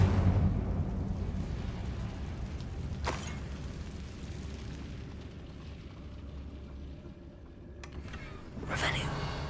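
In the Hogwarts Legacy video game, an Incendio fire spell goes off with a booming, fiery burst, and a second whooshing blast follows near the end over a low, steady rumble.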